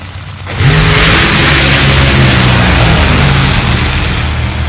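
A Top Fuel dragster with a couple of cylinders out roars to life during a round 2 qualifying run, a sudden, very loud sustained engine blast that holds steady, with no talk.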